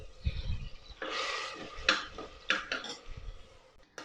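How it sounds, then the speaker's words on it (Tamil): Ground spice paste of marathi mokku and star anise sautéed in a pan for vegetable kurma, a spoon scraping and stirring in several short bursts with a soft sizzle underneath, close and moderately loud. "ஸோ அந்த பேஸ்ட்டை நம்ம இதில் போட்டுட்டு வதக்குறோம்."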